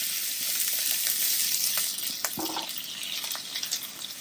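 Potatoes tumble into a pan of browning, caramelizing onions, setting off a steady close sizzle of frying with a few scraping, stirring knocks and no voices.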